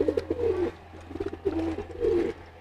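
Racing pigeons coo in repeated low, throaty phrases, close and clear, with short pauses between bursts and a steady low hum underneath.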